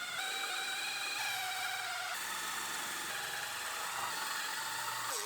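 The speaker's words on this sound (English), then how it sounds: "So now we'll drill the inner pillar off." A loud, continuous whining power drill grinds into the inner pillar of a 2018 GMC Sierra's body metal, its pitch shifting slightly as it bites, with steady harsh noise throughout.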